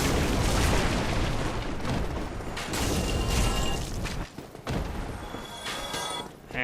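An enemy fires on the player in the Dark Souls video game: a dense, loud wash of booming impacts and mechanical clatter runs continuously, with a brief dip near the end.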